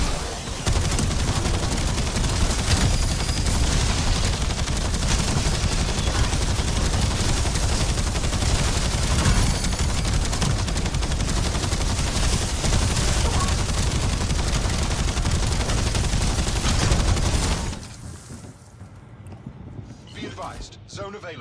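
Continuous dense gunfire in a first-person shooter video game, loud and close bursts running for most of the clip under frequent talk before cutting off abruptly near the end.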